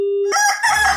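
A rooster crows once as a short sound effect, loud and close, a clear call that opens on a steady tone and then breaks into a ragged, rising-falling cry.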